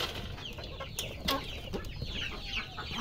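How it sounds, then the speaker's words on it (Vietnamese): Farm hens in a coop cluck and squawk restlessly on a rainy day, with several overlapping calls nearby and at moderate volume throughout. "các bạn gà này hôm nay vẫn nháo nhác là nào"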